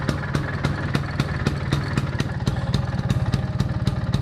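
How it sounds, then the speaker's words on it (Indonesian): Vespa scooter engine idling steadily nearby with a fast, even mechanical pulse and light clatter, running alone without talk. "Oke, motor sudah saya nyalakan ya."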